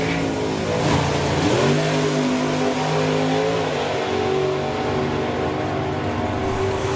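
A one-off drag racing car with a homemade wooden-moulded Citroen body revs hard, its engine pitch climbing and shifting in rising tonal sweeps, loud and sustained at a drag strip.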